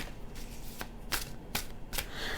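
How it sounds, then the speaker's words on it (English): Zombie Tarot cards being shuffled, a thick, good-quality deck, with four sharp riffling bursts at steady intervals over a soft continuous rustle, close and alone. "I really like how they shuffle compared to some of my cards"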